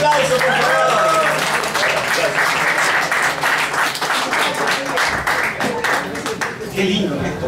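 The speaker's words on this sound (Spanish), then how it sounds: "Un fuerte aplauso, por favor." Audience claps for an acoustic music set, with sharp individual hand claps rising out of a dense crowd ovation that holds steady throughout, and a faint voice briefly under the opening moments.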